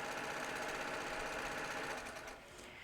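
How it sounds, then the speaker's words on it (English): A sewing machine stitching fabric in a steady, fast mechanical whir of repeated needle strokes, close and continuous, easing slightly softer near the end. "we're just going to stitch all the way down"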